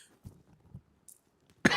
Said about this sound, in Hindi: ससुर जी खांसी हो गई।